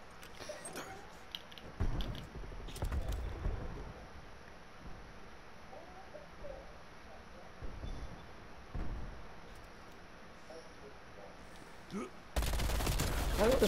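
Shotgun fire in the video game Call of Duty Cold War, heard as several booming blasts spread across a noisy game mix, with some scattered clatter and a loud burst of noise at the end.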